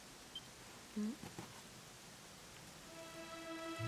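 Rain falls in Dragon Quest XI as a soft, constant hiss of steady rainfall, faint and continuous, with a brief game tone and a rising musical note layered over it.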